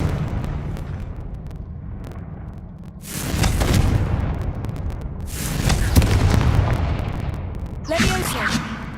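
The Confringo blasting curse goes off in a Hogwarts video game, giving two broad, rumbling explosive bursts a few seconds apart, then a sharper crackling blast near the end over a low background hum.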